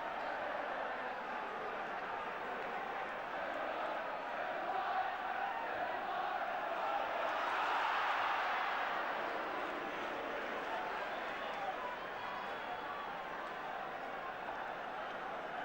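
A football stadium crowd roars and cheers after a goal in a Manchester United versus Ipswich Town match, a dense, steady wash of massed voices that swells to a peak midway and then eases back slightly.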